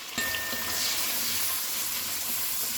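Onions fry in a pan with a soft, continuous sizzle that starts after a small knock and stays fairly quiet and even.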